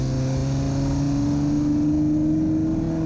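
Ariel Atom 4 on the Anglesey coastal circuit holds a steady, loud engine drone with strong tonal harmonics, a short-shift into fourth keeping the note even and close throughout.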